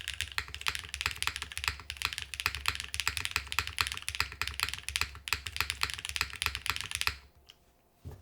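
Rapid, continuous typing on a Space80 mechanical keyboard with foam inside, soft clacks closely miked and densely packed for about seven seconds before stopping abruptly into near silence.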